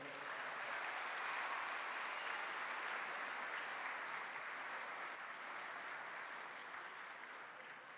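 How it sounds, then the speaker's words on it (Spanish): A church congregation breaks into sustained applause after a call to praise the Lord, a dense, steady wash of many hands that holds for the full eight seconds and tapers slightly toward the end. "Un aplauso al Señor."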